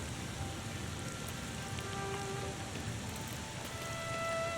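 Rain in the video game The Thaumaturge, a continuous dense hiss of falling rain with faint drips and tonal game ambience woven through, steady and moderately loud with no talk.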